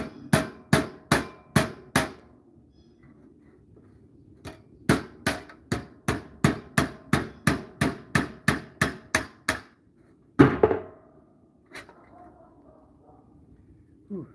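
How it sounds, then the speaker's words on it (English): A hammer strikes a nail used as a punch through mild steel, sharp metallic blows in rapid, steady runs of about twenty hits with brief pauses, close and loud, followed by a heavier clank and a final tap. "I'm going to use this hammer and drive the nail through."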